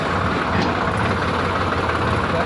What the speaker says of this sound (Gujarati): ટ્રેક્ટર જાય છે અંદર